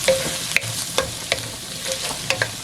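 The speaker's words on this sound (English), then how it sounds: "I'm just going to cook this down until everything's soft" Bacon-tomato sauce cooking down in a pan, a soft close sizzle broken by several sharp spoon taps and scrapes against the pan at uneven intervals, no voices.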